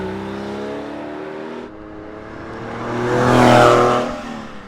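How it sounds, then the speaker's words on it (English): Porsche 911 engine sound comparing a Pfister sports exhaust with an early 996 GT3, a steady droning engine note that shifts midway, then swells into a louder rising rev and fades. "Here's a side-by-side comparison of an early 996 GT3 and the Pfister sports exhaust."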